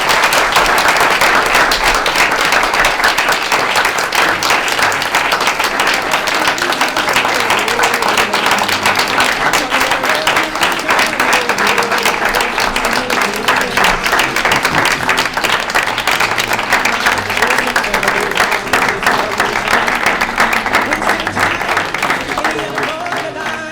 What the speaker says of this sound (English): maybe we could give a round of applause.